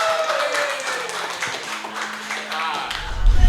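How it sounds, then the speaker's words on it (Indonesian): Scattered audience clapping at a comedy-style talk show, fairly loud and uneven, heard under and alongside a host's speaking voice and some tapping, with a low thump near the end. "Beri tepuk tangannya harus yang meriah dong."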